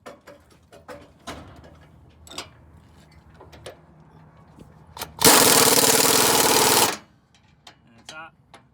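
An impact wrench tightens a suspension bushing bolt in a loud, buzzing burst lasting under two seconds, framed by scattered clanks and ticks of tools, with a voice speaking nearby.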